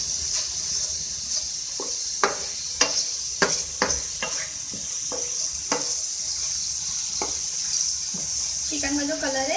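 Chicken fries in a pan for a chicken mayo sandwich filling: a steady hiss of sizzling runs throughout, punctuated by sharp, irregular scrapes and knocks of a spoon stirring the pieces, close and clear.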